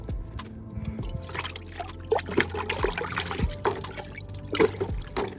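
About a cup of homemade plant flowering booster trickles and pours into a container in uneven gurgling bursts, quiet and close, with faint handling noises.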